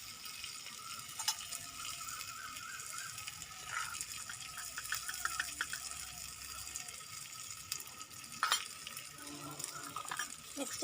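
Salt and turmeric stirred into a tiny cooking pot with a small utensil: soft, faint scraping and light clinks over a quiet background, with no voices.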